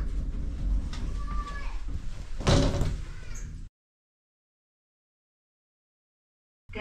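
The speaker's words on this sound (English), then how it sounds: "Doors closing." Doors of a Pickerings hydraulic lift in a shop slide shut, a steady rumbling run ending in a firm thud before the sound cuts to silence.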